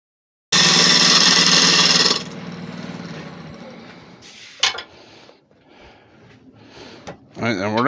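A wood lathe turns a candle holder for a glass jar, with a loud, steady cutting roar for about two seconds that then drops to a quieter spinning hum with scattered scrapes and knocks.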